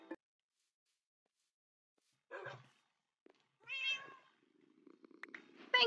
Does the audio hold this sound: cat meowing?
yes